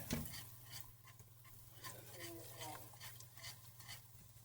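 A whisk stirs flour into a simmering Alfredo sauce in a pan, a soft continuous swishing and light scraping over a faint sizzle and low hum, close by with no speech.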